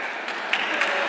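Audience applause at a library lecture event, a steady wash of many hands clapping close by, with a few sharper bursts standing out over the even roar.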